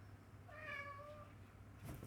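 A cat gives a single drawn-out meow over steady low background hum, fairly quiet and close, with a brief rustle near the end.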